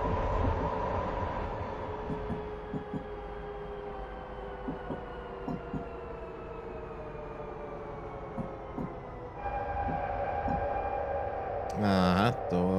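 Frankfurt U-Bahn train pulling into a station in Train Simulator Classic, a steady rumbling run with whining motor tones and periodic wheel clunks, then a shift in pitch as it slows, ending in a brief squeal.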